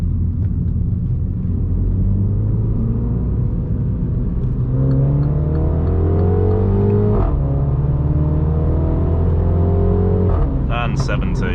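A MINI JCW F56 accelerates hard on a road at night, its engine rumble climbing steadily in pitch through the gears, heard loud and close from inside the car with a voice speaking over it.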